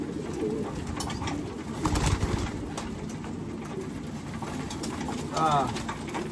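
Racing pigeons coo softly amid steady background noise, with a brief burst of fluttering and a short warbling call near the end, after a 402 km race.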